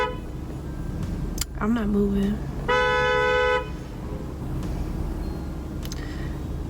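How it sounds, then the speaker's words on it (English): A car horn honks from a nearby vehicle in traffic, one sustained blare lasting about a second amid brief toots, with a person talking close by in the car. "This lady is like honking at me, telling me to go"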